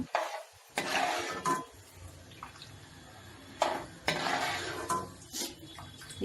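Chana dal is fried in a pan for a mango ginger pickle, with soft sizzling under intermittent scraping and stirring strokes of a utensil against the pan, a few louder clanks standing out.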